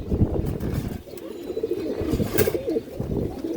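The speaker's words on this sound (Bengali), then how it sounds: "এক পেয়ার ইন্ডিয়ান হাইফ্রাই কালদম কবুতর সংগ্রহ করছে" A pair of Indian high flyer Kaldam pigeons, black with white markings, coo close by in soft, repeated throaty calls, with light chirps and rustling mixed in.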